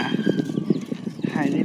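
Hooves of two horses clip-clop in a steady, close rhythm as they pass by, with people talking over the clatter.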